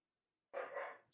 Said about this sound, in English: Spooky barking.